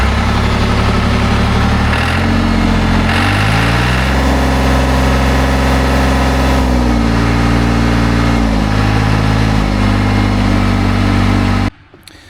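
A John Deere 350C dozer diesel, with a fuel system under repair and a debris-clogged check valve, runs loud and close for about eleven seconds, its pitch stepping up and down before it abruptly dies.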